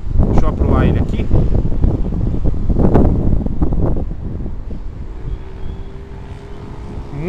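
Strong gusts buffet the microphone outdoors during a ZLrc SG906 Pro2 drone flight, with heavy low rumbling that eases toward the end, while someone talks over it and a faint motor whine lingers.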